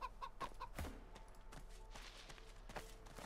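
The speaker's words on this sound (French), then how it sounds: "Toi, la poule, reste en haut." Chicken clucking in the video game Divinity: Original Sin 2, a few short clucks early on over a steady game background with soft footsteps-like knocks.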